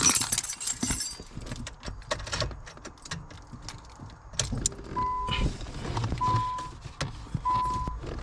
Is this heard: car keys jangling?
yes